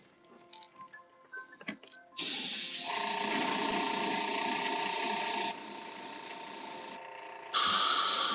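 A spray paint can hisses in long, loud continuous bursts with brief breaks between them, after a few faint handling clicks and rattles.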